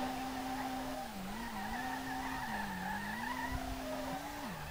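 An R32 drift car with an FD/D1GP spec build slides through a tight track in SLRR, a steady sustained tire squeal wavering in pitch over a continuous engine drone, loud and unbroken, with no talk.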